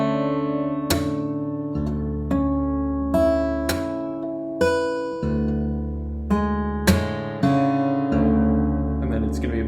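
Percussive fingerstyle acoustic guitar passage mixing plucked notes, body taps, string slaps and left-hand pull-offs, a close sequence of sharp attacks and ringing chords at a moderate pace.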